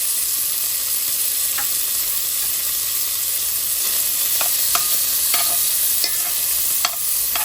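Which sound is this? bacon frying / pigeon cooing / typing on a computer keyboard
bacon frying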